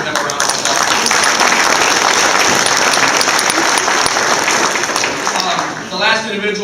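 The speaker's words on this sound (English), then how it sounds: "Let's give them a round of applause." Banquet audience at an LSU-Eunice Bengal event breaks into sustained, loud applause filling the room, thinning out near the end as scattered claps and a voice emerge.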